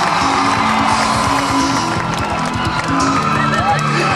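Crowd at an outdoor evening concert and hip-hop event in Vălenii de Munte, applauding and cheering loudly and steadily throughout, with whoops over dense clapping.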